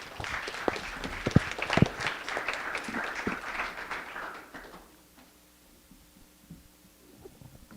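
An audience at a university student startup pitch competition claps loudly for several seconds with some sharper individual claps, then the applause fades out into a quiet room hum.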